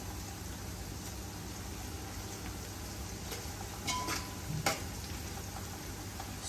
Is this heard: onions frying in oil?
yes